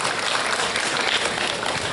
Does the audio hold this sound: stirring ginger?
no